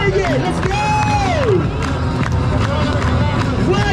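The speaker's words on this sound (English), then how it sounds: "Everybody clap those hands. Everybody clap." Busy Times Square crowd at night, clapping and cheering along with loud hubbub, voices and shouts all around at close range, with a whistle-like rising tone sweeping through.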